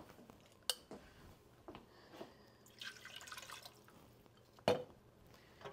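A glass of water poured into a pot of beef nihari, with soft intermittent splashes and drips plus a couple of sharp clinks of a utensil against the pot, fairly quiet and close.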